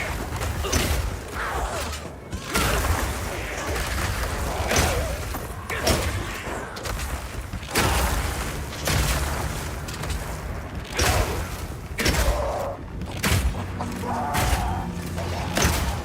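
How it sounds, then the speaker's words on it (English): Armor-piercing Burst Shot blasts striking ice walls in a video game, a dense run of booming, thudding impacts and cracking bursts over layered game effects, steady and loud throughout the clip. "Now I can fill up this area with ice walls, then shoot them with armor-piercing Burst Shot for a huge amount of damage."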